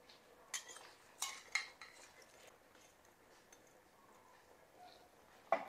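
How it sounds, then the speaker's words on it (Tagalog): Fried fish is added to a cooking pot of mixed vegetables with okra. A few faint clinks and knocks of utensils against the pot are spaced out over quiet kitchen background, with a sharper clink at the end. "Lagay po natin ang ating pritong isda"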